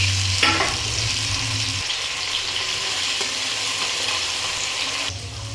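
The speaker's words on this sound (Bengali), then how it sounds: "এক দেড় মিনিট আলুটাকে নাড়াচাড়া করে নিয়েছি এবার দিয়ে দেবো কেটে রাখা টমেটো কুচি" Diced potatoes frying in a pan with a steady loud sizzle, stirred with scraping strokes, then a brief louder clatter as chopped tomato drops in and the hiss swells again; no voices.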